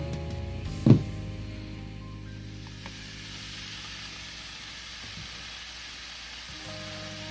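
Ribeye steaks cooking on a Ninja Foodi XL indoor grill give a steady, soft sizzle and hiss, with one brief loud knock early on, then a constant low appliance hum.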